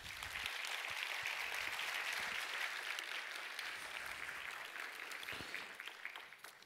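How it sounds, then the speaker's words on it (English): Applause from the audience at a memorial ceremony, a soft continuous patter of many hands heard from a distance, steady throughout and fading slightly toward the end. "And an applause to you."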